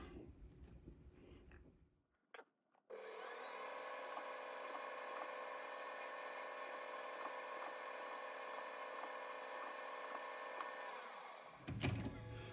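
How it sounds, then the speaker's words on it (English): A drill bores a hole in a cam gear part for a six-cycle engine, ahead of tapping a thread, as a steady, close high-pitched whine sustained for about nine seconds after brief handling noises. "Now I can drill that and put a thread in it"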